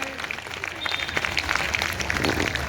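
Applause honouring guests at a BSP workers' gathering in Kamla Bhawan, Bhiwani, marking Mayawati's birthday: dense, steady clapping from a crowd filling the room, moderately loud and sustained throughout.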